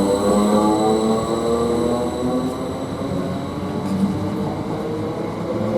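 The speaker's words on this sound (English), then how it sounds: "Now the 13:34 from London Liverpool Street to Ipswich is now just about departing." The 13:34 train from London Liverpool Street to Ipswich pulls out of Chelmsford station, a loud, steady engine drone with rising whining tones and rumbling rolling noise, heard close from the platform without talk.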